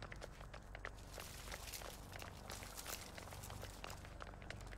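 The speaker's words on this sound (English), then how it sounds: "I still hear footsteps here." Footsteps in the horror video game The Texas Chain Saw Massacre patter faintly and continuously, a quiet run of soft steps under a low background hum.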